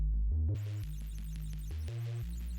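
A synth sound squashed by OTT-style multiband compression comes out loud and dense: a thick, throbbing low bass steps through a few pitches under a bright, hissy, buzzing upper layer, continuous with no talking.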